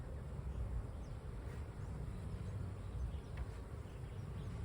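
Honey bees hum in an open hive during an inspection, a dense, steady droning buzz that holds at an even level throughout without pauses.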